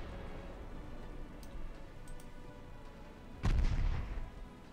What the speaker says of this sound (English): She's taking fire from the 3- and 2-inch guns.